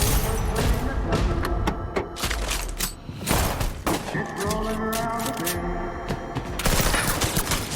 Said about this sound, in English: Just bullets. And guns loading.